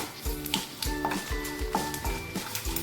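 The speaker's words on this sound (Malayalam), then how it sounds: "ഒരു കാൽ സ്പൂൺ കടുക് ഇട്ട് കൊടുക്കാം കറിവേപ്പില ചേർത്ത് കൊടുക്കാം" Mustard seeds and curry leaves crackle and sizzle in hot oil in a home kitchen pan, the spatter coming in dense repeated bursts of popping close by, with a steady hiss beneath and no talking.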